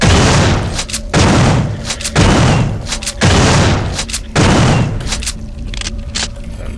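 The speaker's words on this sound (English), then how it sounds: "let's shoot this." Gunfire in System Shock 2 bursts out in five loud repeated shots about a second apart, each a sharp blast with a short decaying tail.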